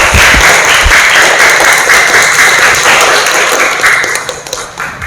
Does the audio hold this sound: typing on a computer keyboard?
no